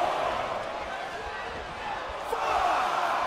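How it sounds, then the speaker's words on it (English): A wrestling pay-per-view crowd roars in a steady wash of cheering that swells louder near the end, with no clear single voices standing out. "The sound of this crowd is deafening"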